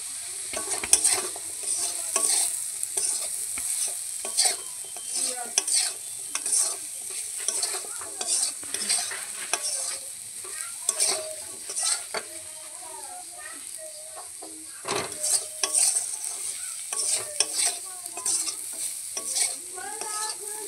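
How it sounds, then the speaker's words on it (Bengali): Okra fried with salt, turmeric and chili powder for a prawn dish, sizzling steadily in a pan as a utensil scrapes and stirs in repeated strokes, with someone speaking over it. "সব কিছু একসাথে ভালো করে কষিয়ে নেব।"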